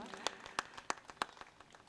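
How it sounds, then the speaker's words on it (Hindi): Audience at a Hindi kavi sammelan poetry gathering in Udaipur claps in scattered, sparse bursts, a handful of distinct hand claps spaced across the moment, fairly faint and distant. "आप तालियां बजाएं एक बार"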